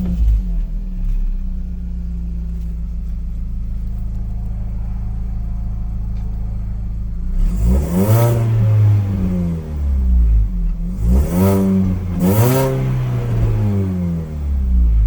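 A supercharged Mini Cooper R53 sits at a steady idle hum, then fires through three sharp revving bursts near the end, each rising and falling loudly close by.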